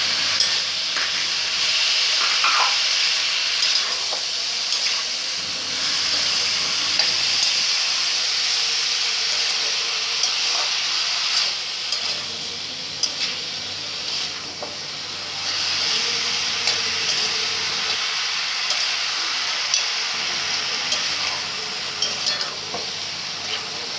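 Ginger garlic paste sautés with onion and tomato in a pan for soya chunk curry, a steady loud sizzle and hiss that swells and dips as the mixture is stirred, with occasional scraping and no talking.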